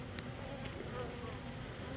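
A swarm of honeybees hums with a dense, continuous buzz that stays steady and fairly faint throughout, with no voices over it.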